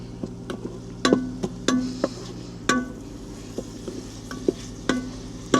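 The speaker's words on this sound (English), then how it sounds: "So now you got to cook it for a few minutes till the smell goes, okay? Saute it nicely." Garlic sautés with onions in a pan in a truck cab, heard as a faint sizzle under sharp, intermittent spoon scrapes and clinks against the pan.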